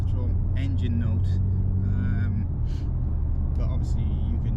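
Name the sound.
BMW M4 G82 engine sound amplified inside the car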